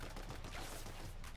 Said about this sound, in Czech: Samozřejmě, že střílí.